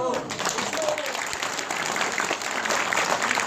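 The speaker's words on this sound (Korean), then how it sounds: "박수 치려면 신나게 치십시오. 한 번 더 박수 쳐주세요." Crowd applause at an outdoor political rally of Taegukgi flag supporters, a steady wash of many hands clapping throughout with faint voices mixed in.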